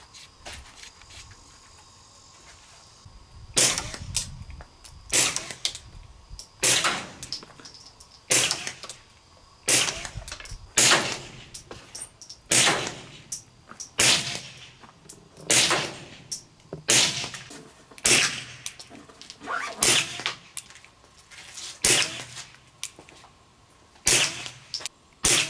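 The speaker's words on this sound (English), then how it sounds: "Even if you don't have a suppressor, this gun is fine to shoot just as is." A Smith & Wesson M&P 22 Compact pistol fired unsuppressed, about fifteen sharp, close cracks in a steady, evenly spaced string, with quiet gaps between shots and no talking.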